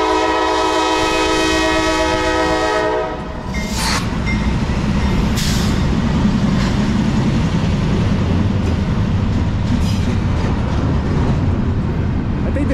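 Slow Norfolk Southern Dash 9-44CW locomotive leading a freight train with BNSF power, a long loud chorded horn blast at the start, then steady rumbling and clanking of cars rolling by at creeping speed.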